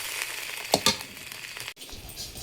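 Taki fish frying in a pan with turmeric, salt and chili powder over sautéed onion and garlic: a continuous close sizzle with a couple of brief metallic scrapes, then a sudden cut to a lower hiss.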